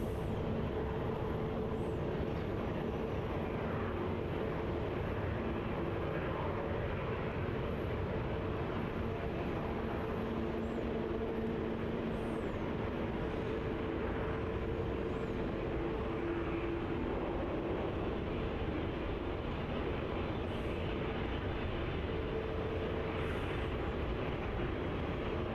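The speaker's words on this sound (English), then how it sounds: "there it is now, rolling runway 34 VN 780" Aircraft VN 780 rolls down runway 34 at Melbourne Airport, a steady, distant jet roar heard from afar over a broad rumble, with no talk.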